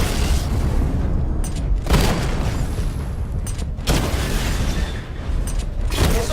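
Targets are destroyed in a video game, making repeated heavy booming explosions at roughly two-second intervals, each a loud burst decaying into a rumble, with no talk.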